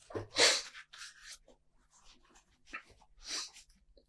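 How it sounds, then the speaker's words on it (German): A single sharp sneeze bursts out near the start, followed by quieter breathy sounds and brief murmurs from the same person, heard close up in a quiet room during a lecture. "also das muss ich halt einmal niesen"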